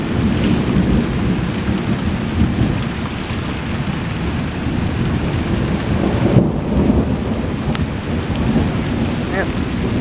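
Steady, heavy rain pours down during a thunderstorm in the Chicago area, with low rumbling thunder rolling beneath it throughout and no voices.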